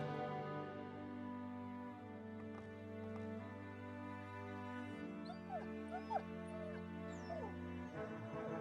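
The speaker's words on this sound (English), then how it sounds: "Pet my puppy." A puppy in the video game The Chronicles of Myrtana: Archolos whimpers and yips softly while being petted, thin high cries rising over a steady background tone with low game music.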